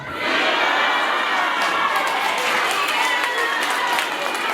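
A large crowd at a Chadema party gathering in Nkasi welcomes new members with loud, continuous cheering and shouting that holds steady throughout.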